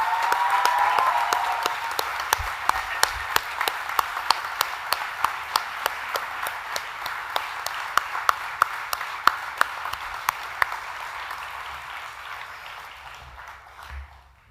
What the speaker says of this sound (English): Let's give a loud applause to our teachers.